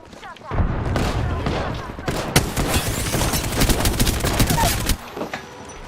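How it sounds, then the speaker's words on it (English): Rapid bursts of gunfire in the video game Apex Legends, dense overlapping shots and loud cracks sustained for several seconds, with a voice talking over the shooting. "Stop, I'm getting shot at."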